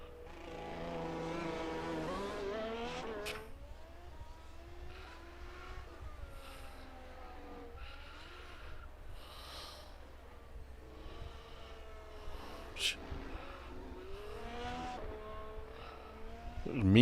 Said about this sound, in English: Formula 1 car testing day